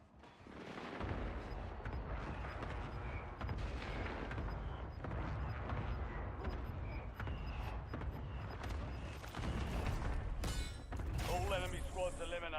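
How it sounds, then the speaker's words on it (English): Enemy airstrike explosions in a video game: dense, continuous rumbling blasts and gunfire fill the scene loudly and nearly without pause, with a radio-style voice speaking over the barrage. "Enemy airstrike in the area."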